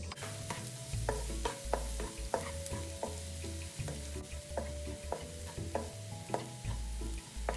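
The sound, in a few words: minced garlic stir-fried in oil over medium heat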